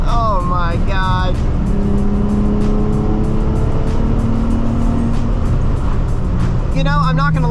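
A 2006 Nissan 350Z drives back roads at sunset, its engine droning steadily with short climbing rev bursts at the start and end, while people talk throughout.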